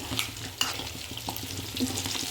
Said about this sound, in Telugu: చూడండి మా ఫిష్ ఫ్రై ఆల్మోస్ట్ అయిపోయింది